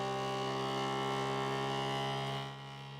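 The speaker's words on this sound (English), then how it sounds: "It's louder than on other printers." A Creality Ender 3 V3 CoreXZ 3D printer running resonance calibration gives off a steady, loud tonal hum with several sustained pitches that dips slightly in level near the end, with no talking.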